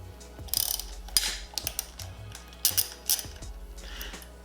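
Handlebar bolts on a Yamaha R6 sportbike are loosened with a ratchet, making close, loud bursts of rapid metallic clicking in short runs separated by brief pauses.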